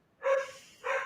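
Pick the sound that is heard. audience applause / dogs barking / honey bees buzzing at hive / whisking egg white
dogs barking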